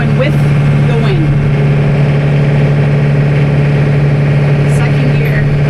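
Snow blower engine running steadily in second gear outdoors in heavy snow, a loud, constant low drone with a strong steady hum throughout and no pauses.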